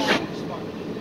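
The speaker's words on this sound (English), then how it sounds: "And there's like another train." A train moves through a busy station with a broad, steady rumble and a brief louder hiss at the start, close by and filling the whole second.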